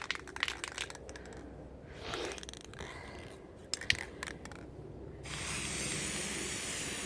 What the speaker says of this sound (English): I'm going to spray it gold